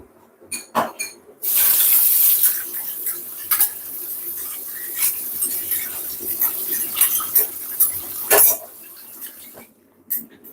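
Kitchen tap running as items are rinsed in a sink after making homemade Bolognese sauce, a steady rush of water broken by clinks and knocks of utensils and dishes, close and loud, no talking.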